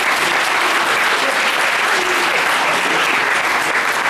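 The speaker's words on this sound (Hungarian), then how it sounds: "Még egyszer tapsuk meg őket." Sustained, dense applause from an audience after a wind quartet performs at a Christmas concert, loud and even throughout with no pauses.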